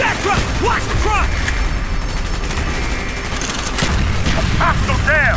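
Gunfire in Call of Duty Black Ops: a continuous loud barrage of shots and bursts throughout a tense firefight, with shouted voices and other battle sounds mixed in.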